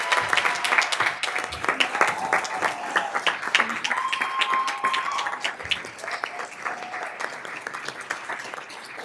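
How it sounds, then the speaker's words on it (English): An audience at a school district event applauds 2019 Classified Champion Award winners with scattered, lively clapping, while voices and whoops rise intermittently over it. "Let's give our 2019 Classified Champion Award winners a round of applause"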